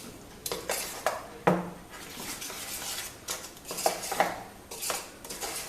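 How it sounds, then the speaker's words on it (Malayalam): Fermented vattayappam rice batter being stirred in a bowl, a spoon scraping and tapping against the sides in repeated soft strokes with occasional clinks, close and moderately quiet, no voices. "ഒന്ന് ഇളക്കി യോജിപ്പിച്ചിട്ട്"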